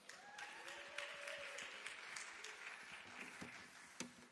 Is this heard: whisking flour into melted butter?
no